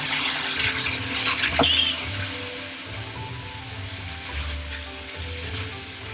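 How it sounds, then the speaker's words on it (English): Chunks of pork belly fry with sugar in a hot pan, giving a loud continuous sizzle broken by periodic stirring and scraping, all close up and without voices. "I will continue to fry this for a few minutes until it gets a real nice red color to it."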